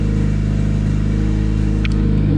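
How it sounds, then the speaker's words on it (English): A Honda D16Y8 turbo engine idles steadily and a little high after oil leak repairs, a constant close-up drone with a brief faint click near the end. "It's actually idling really well."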